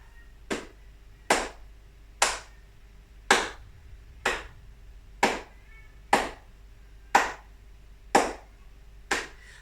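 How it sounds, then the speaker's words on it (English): Single sharp hand claps, ten in a row, evenly spaced about one second apart in step with a ticking seconds clock, each crisp and close with a short decay into a quiet room. "So using the second timer to just start with a clap."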